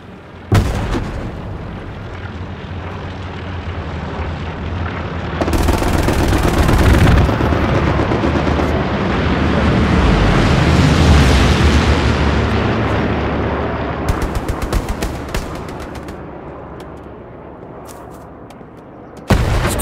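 A grenade bursts amid gunfire in the shooter game Hell Let Loose: heavy booming blasts and rumbling explosions mixed with rattling shots, loud and continuous, with no talk over them.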